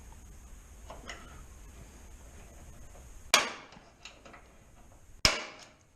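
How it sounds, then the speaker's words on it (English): A hammer strikes a centre punch on metal while making a camber gauge: two sharp, loud, ringing blows about two seconds apart, each decaying quickly over faint background noise. "Centre punch."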